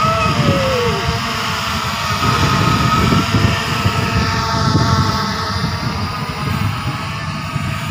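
A Beast SG906 Pro2 GPS drone flies on its first outing, giving off a steady, loud buzzing whir like a helicopter that holds evenly throughout with outdoor background noise.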